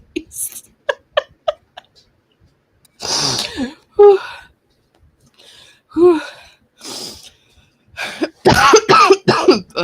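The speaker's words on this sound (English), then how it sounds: "sorry for coughing over everybody" Several harsh bursts of coughing and sputtering, some sneeze-like, in irregular clusters with short pauses between them, close to the microphone.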